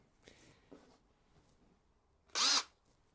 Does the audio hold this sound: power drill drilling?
yes